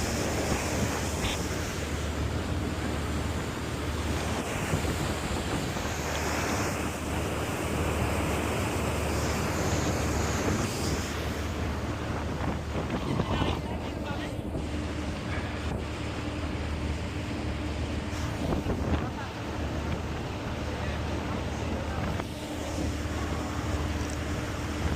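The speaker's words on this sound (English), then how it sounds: "On the boat. On the ferry, should I say." Steady wind and rushing water on a ferry crossing the bay toward San Francisco, a constant close roar of wind buffeting the microphone over churning waves and engine hum, with no talk.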